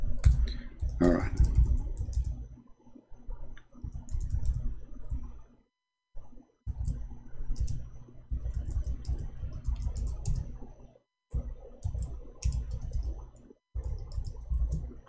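Keys clatter on a computer keyboard in quick, uneven bursts of close tapping and clicking, broken by short silent pauses.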